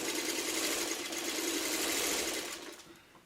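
A sewing machine runs steadily stitching pieced quilt blocks with a new quarter-inch foot, a dense continuous whirring hum close up that slows and fades out near the end.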